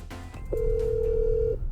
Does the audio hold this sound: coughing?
no